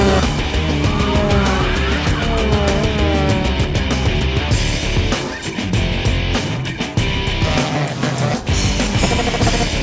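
Race cars roar together at the start of a race, a dense, loud wall of engine noise with rising and falling revving and tire squeal running continuously throughout.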